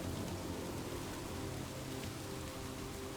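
Steady, dense rain pours during a thunderstorm in Minecraft, a continuous even wash of noise with no talk and no distinct thunderclap.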